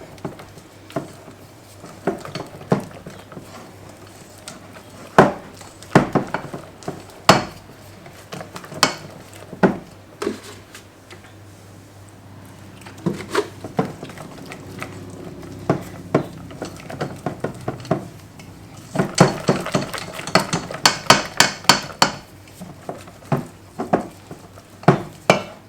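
A whisk clinks and taps against a bowl while mixing Yorkshire pudding batter of milk, with irregular knocks and scraping strokes, ending in a quicker flurry of beating near the close.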